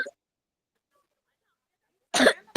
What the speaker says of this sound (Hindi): कौन खांस रहा है?